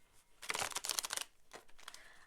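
Tarot cards shuffled by hand, a quick flurry of crisp riffling and slapping bursts up front, then a few softer card flicks, close and alone.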